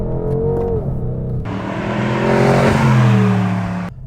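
A 2021 BMW M850i in Sport Plus mode revs hard, its engine note climbing and swelling loud and close, then surging again in a second rising pull before easing off.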